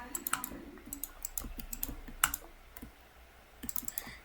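A computer mouse is clicked hard and often during Minecraft play, a faint, irregular run of quick, close taps coming in small clusters with short gaps, and no one speaking.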